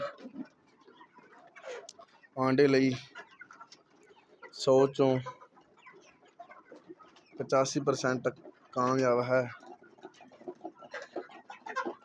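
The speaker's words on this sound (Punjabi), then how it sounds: "ਇਹ ਡਬਲ ਐਫ ਜੀ ਦੇਸੀ ਮੁਰਗਾ ਹੈ" Double FG desi chickens cluck in several short bursts, interspersed with a person talking between and over the calls.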